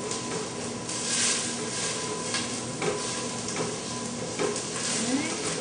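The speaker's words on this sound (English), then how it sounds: "Now we're almost done sauteing onions. The onions, because of the margarine, saute very quickly." Onions sauteing quickly in margarine in a pan, a steady close sizzle with soft stirring scrapes and light clinks throughout.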